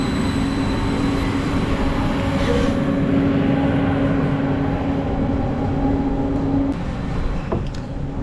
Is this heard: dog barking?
no